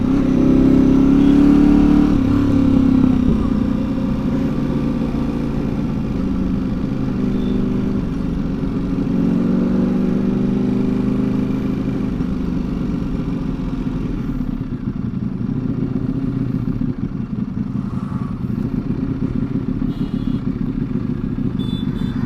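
Ducati V4 motorcycle ridden in first gear through Bangalore city traffic, a loud continuous close engine drone with rising revs early on, then steadier running under surrounding traffic noise.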